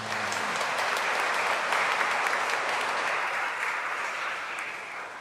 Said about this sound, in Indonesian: Kita berikan tepuk tangan untuk semua.